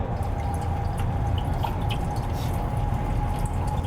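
Recorded rain ambience playing through the audio system of a new Kia K7 sedan, a steady close wash of patter and drips with no talking over it.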